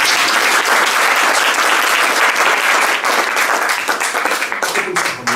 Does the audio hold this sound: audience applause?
yes